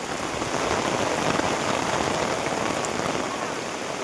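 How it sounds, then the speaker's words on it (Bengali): Heavy rain pours steadily outdoors, a dense, even hiss of drops striking surfaces, continuous and fairly loud with no gaps. "আর পুরো বৃষ্টি হচ্ছে।"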